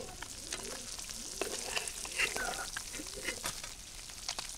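Hilsa fish pieces fry in hot oil in a pan, giving a continuous close sizzle with crackling pops throughout.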